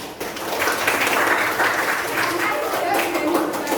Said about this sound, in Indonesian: Beri aplaus dulu untuk Noval.